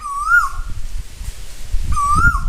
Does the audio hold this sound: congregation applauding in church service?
no